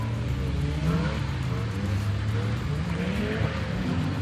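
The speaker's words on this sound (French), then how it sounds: "un Benjamin et un Laurent Schmitt en train de drifter pour la première fois de leur vie" A BMW drifting on a race circuit, engine droning steadily with tires squealing and sliding throughout, while excited voices call out over the car noise.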